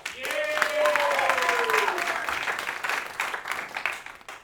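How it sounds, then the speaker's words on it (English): A crowd at a bowling competition breaks into applause, sustained clapping with a few whoops and voices mixed in, tapering off toward the end. "Round of applause."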